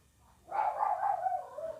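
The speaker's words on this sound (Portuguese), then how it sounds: "Ah, cachorrada." A pack of dogs barks in the video game Sword of Mana, a dense, continuous burst of overlapping barking that starts abruptly and holds at moderate loudness for over a second, with no talk.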